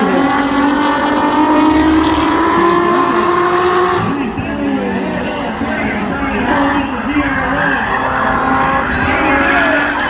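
Drag racing cars, a Corvette ZR1 among them, run side by side with loud engine roars that rise and fall in pitch, tire noise and a commentator talking over the racket.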